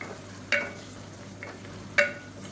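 Mint and coriander leaves being sautéed for chicken biryani, with two sharp clacks of a spoon against the pan over a faint, steady sizzle and no talking.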